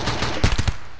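A short, loud burst of RimWorld gunfire: three or four sharp cracking shots in quick succession over a steady hiss, with no voices.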